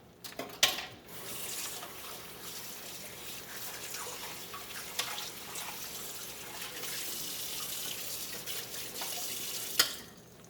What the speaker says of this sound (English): I wash out the same bowl